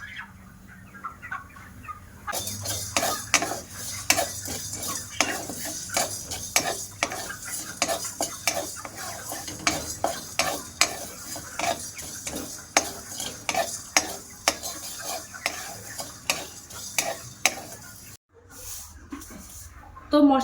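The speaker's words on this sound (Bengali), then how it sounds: "তো এগুলো আমি ভাজা করে নেব" Coriander, cumin, fennel, fenugreek and black peppercorns dry-roasting in a kadai, a long run of sharp scraping and rattling stirs against the metal pan, close and fairly steady, with a brief pause near the end.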